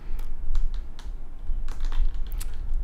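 A computer keyboard being pressed while playing a game: several bursts of quick key clicks, close and clear, spaced unevenly over a low background hum, with no voices.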